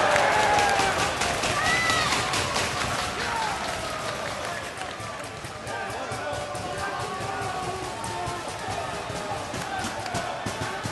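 A wrestling crowd at an ROH tag team title match roars and cheers continuously, a loud dense arena wall of voices and clapping that stays steady throughout, with commentators talking over it.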